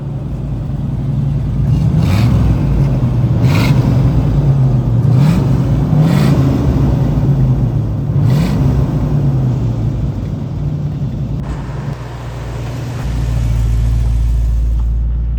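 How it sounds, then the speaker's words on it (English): A matching-numbers 1968 Buick GS400 convertible with factory A/C rumbles loudly up close. Its deep exhaust note swells with several revs early on, dips briefly near the end, then settles back into a heavy, steady idle. "you want to hear what the rumble of the big GS400 sounds like?"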